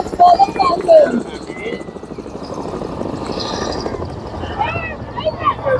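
Navy multi-role anti-submarine helicopters fly past at a Navy Day display in Puri, a steady rotor and engine rumble that swells and fades over crowd noise, with speech heard over it throughout.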